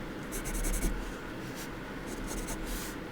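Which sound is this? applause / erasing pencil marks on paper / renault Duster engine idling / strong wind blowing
erasing pencil marks on paper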